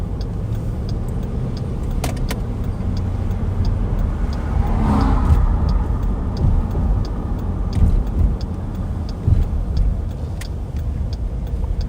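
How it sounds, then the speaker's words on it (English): A car passes on 7th Street in town at night, a broad low engine and tyre rumble swelling to a peak midway and easing off, heard from a distance under a steady background hum. "I was hearing cars down on 7th Street."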